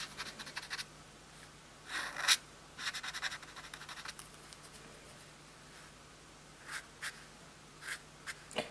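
A Faber-Castell Pitt pen nib scratching over paper: faint, intermittent scratchy strokes in short clusters separated by quiet pauses, close and soft, no talk.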